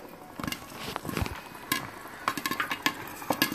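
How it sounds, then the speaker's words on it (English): Popcorn kernels beginning to pop in melted butter in a pot, a handful of sharp, close pops spaced irregularly over a soft sizzle, growing more frequent toward the end. "The popcorn is just starting to pop."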